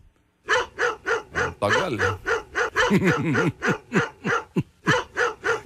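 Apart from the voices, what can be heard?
dog barking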